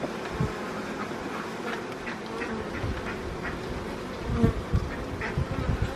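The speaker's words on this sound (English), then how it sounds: "There's the bees." Close, steady droning buzz of many bees at a hive entrance, with a few louder passes near the listener and faint background rumble.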